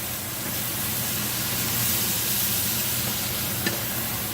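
Onions and garlic frying with bacon in a pan give a continuous, even sizzle with a soft crackle, and one brief clink near the end.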